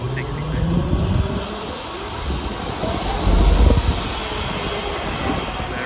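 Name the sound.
Freightliner Class 66 freight train passing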